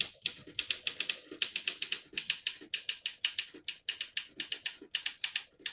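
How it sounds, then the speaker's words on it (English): Fast, even typing on a 1959 Olympia SM3 portable manual typewriter in excellent condition, a steady stream of crisp close key strikes in short runs with brief pauses, heard alone. "I'll type a sentence on the next line."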